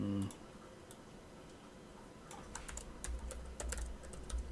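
Keystrokes on a computer keyboard come in a quick burst of light clicks after a short quiet pause, near and faint, with a soft low voice murmuring briefly at the start.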